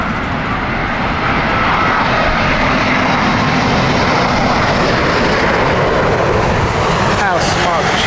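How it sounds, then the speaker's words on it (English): A seven-year-old Airbus A350-900 airliner landing at Heathrow in crosswinds produces a loud, continuous jet roar that stays steady throughout, with a voice speaking over it. "this is a 7-year-old Airbus A350-900"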